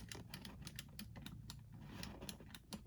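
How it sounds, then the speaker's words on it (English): Clicky Atari joystick being worked rapidly, a quick irregular series of sharp plastic clicks, close and fairly faint, with no talk. "It's got the clicky joystick."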